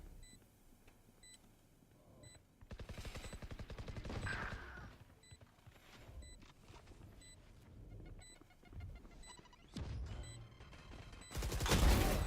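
Gunfire in the tactical shooter Valorant: bursts of rapid shots come in several clusters between quieter stretches, with short repeating beeps running throughout.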